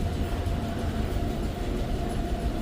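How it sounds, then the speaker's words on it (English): A vintage holiday nostalgia subway train in New York City produces a steady, loud rumble with a dense, continuous low roar throughout and no voices. "Guys, you got to come down and enjoy the holiday nostalgia train."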